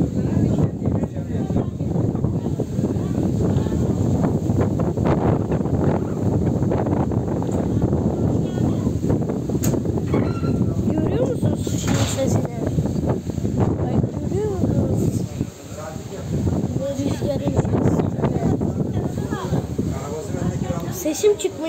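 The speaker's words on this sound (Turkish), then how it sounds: "Sesim çıkmıyor. O kadar rüzgar esiyor. Rüzgardan ses çıkmıyor." Strong gusting wind buffets the microphone outdoors at a wedding, a continuous heavy rumble that persists throughout, with people talking underneath.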